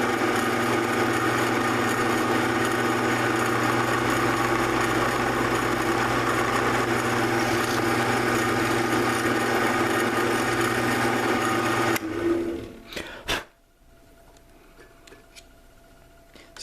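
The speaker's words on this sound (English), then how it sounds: "So we'll just go ahead and drill that hole." A power drill bores a hole for the red button on a Graflex, a loud steady whining hum for about twelve seconds that stops abruptly, followed by quiet handling noises.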